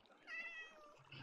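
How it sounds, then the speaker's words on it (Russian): A cat meows in the Minecraft video game, a short rising-falling meow, fairly faint and alone. "Где кисик орет?"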